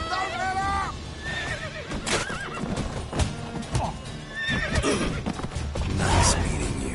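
Horse in The Witcher video game neighing and whinnying loudly, with clip-clop hooves, amid a busy mix of game voices and background sound.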